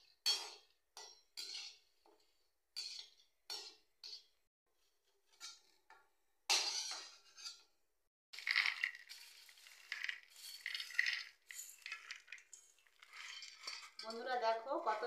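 Metal utensils clink and scrape against a pan while fried curry leaves are lifted out during chanachur preparation, sounding as a run of sharp, separate close-up taps that give way to denser rattling and scraping.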